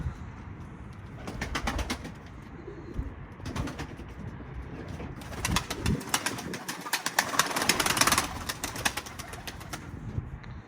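Coop pigeons out in strong wind, with bursts of wing flapping and some cooing over a rough, gusty background, louder in the middle and toward the end.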